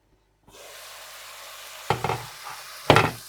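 Vegetables for Albanian stuffed peppers sizzle steadily in a pan, a soft continuous frying hiss with a couple of louder clatters of stirring near the end.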